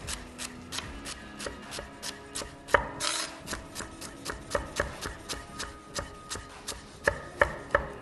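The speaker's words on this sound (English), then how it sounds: "turn this sideways and make a very fine slice" Knife finely slicing herb leaves on a wooden cutting board, a rapid, even run of crisp chopping taps that comes steadily and close, with no talking.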